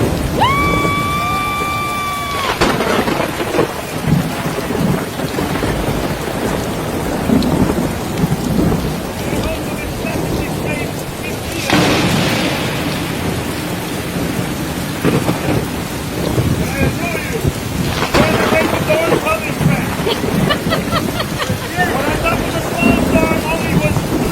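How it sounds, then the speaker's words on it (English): A heavy thunderstorm plays back from a video: dense, steady rain roars throughout while loud thunder claps crack and rumble several times, with brief electronic tones near the start. "Check this crazy storm out"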